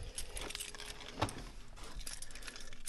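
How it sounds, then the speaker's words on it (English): Car keys jangle briefly in a hot garage as someone gets into a 2004 Subaru STI, a faint metallic rattle with one brighter clink in the middle over low background hum. "Grab my keys here."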